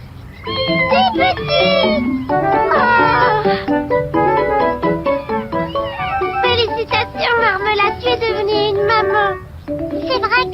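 A cat meows repeatedly and insistently, loud and close, with rising and falling cries in quick succession and only short pauses between them.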